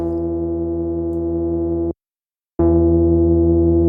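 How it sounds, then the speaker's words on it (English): Waldorf Largo software synth playing a sustained bass-boosted tone, a loud steady buzzy note that cuts out briefly for a short silence, then returns just as loud and full, with no voices. "So that's a significant boost to the bass frequencies"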